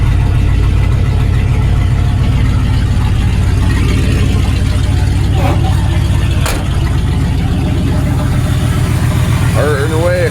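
Ford with a straight pipe exhaust idling, a loud, close, rough low rumble with steady rapid pulsing that holds throughout, with brief speech over it.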